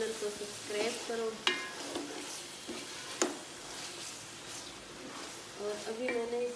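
Eggs being stirred and fried into chicken fried rice in a pan, with a steady sizzle under repeated scraping stirs and occasional clinks of the utensil, close and moderately loud.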